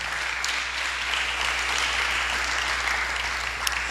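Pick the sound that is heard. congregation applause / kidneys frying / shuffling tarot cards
congregation applause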